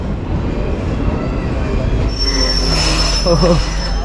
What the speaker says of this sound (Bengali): দু নম্বর প্ল্যাটফর্মে কিন্তু গাড়ি ঢুকছে